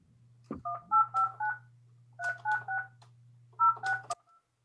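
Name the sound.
telephone dialing tones while calling someone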